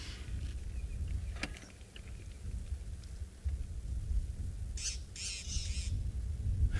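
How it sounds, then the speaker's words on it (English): Wild birds squawk and chatter in bursts at a safari site as a cat moves nearby, the calls sharp and mid-distance over steady low rumbling wind or rain noise. "you can hear the birds are also giving some of the calls about his presence"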